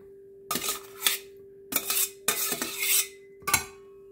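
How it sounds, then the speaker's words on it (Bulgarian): Russian salad ingredients stirred and mixed in a bowl, several bursts of scraping and clinking from a utensil, separated by short pauses, near and without talk, over a faint steady hum. "Първо хубаво трябва да объркам всичките продукти да са равномерно размесени."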